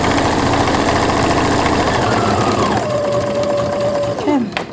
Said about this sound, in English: now this time I'm actually stitching across the bottom of the pocket as well